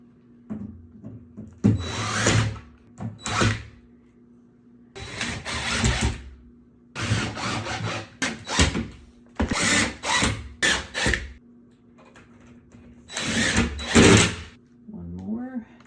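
A power drill drives screws into the back panel of a kitchen cabinet in short bursts, several whirring runs separated by pauses, fairly close.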